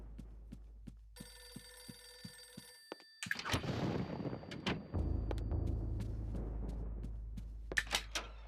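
Gunshots in the game Eternal Darkness: a few sharp, loud reports fired in fairly quick succession over a steady low hum, with ringing tones before them and no talking.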